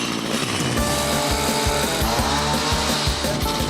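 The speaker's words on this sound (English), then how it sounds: "this is, of course, not a chainsaw. It's a hedge trimmer." A petrol hedge trimmer buzzes steadily while cutting a hedge in a Derby garden, its motor loud and close with rapid reciprocating chatter throughout.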